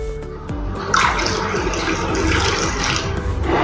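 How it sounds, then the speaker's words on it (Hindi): Water pours steadily into a vessel of washed, soaked semolina for rava kurdai, a continuous close splashing and gurgling fill with no speech. "हमने सूजी के ऊपर का पानी निकाल दिया है और से इसमें पानी डालेंगे।"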